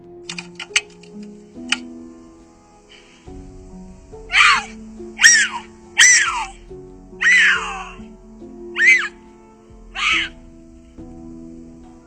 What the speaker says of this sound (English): cougars tend to scream while mating